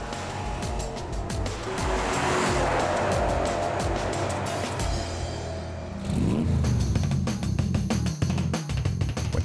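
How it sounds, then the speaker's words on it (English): Porsche Panamera driving with a continuous loud engine and road roar, then a surge of revving after a brief shift, heard close without any talk. "Here it is, the Porsche Panamera, today's classic of tomorrow."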